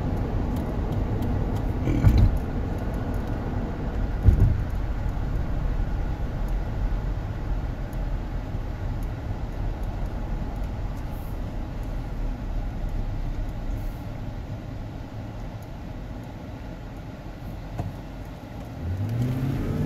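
A 2006 Dodge Magnum R/T police-package engine drones steadily under load while accelerating, climbing gradually with a couple of brief thumps, loud and close throughout.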